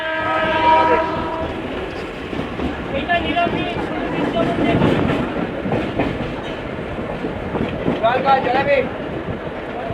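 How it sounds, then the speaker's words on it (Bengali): A train rumbles and clatters steadily entering Barasat Junction station, with a horn sounding near the start, while a person talks over the noise. "এখন আমাদের ট্রেনটা ঢুকে গেল বারাসাত জংশনে"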